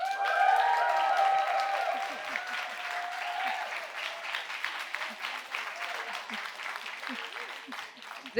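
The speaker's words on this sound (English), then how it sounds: "If the against team won you over, hoot, holler, clap." Debate audience clapping and hollering in support of the against team, a dense burst of applause with whoops and cheers up front that settles into steady clapping, voices shouting over it.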